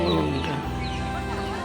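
Chickens cluck steadily and close by through a dense, continuous wash of farmyard noise, with the calls overlapping in a busy flock.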